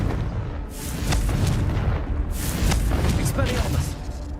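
The Confringo blasting spell in Hogwarts Legacy sets off a rumbling explosion followed by a second, louder blast, with dense booming bursts filling the whole stretch over game music and effects.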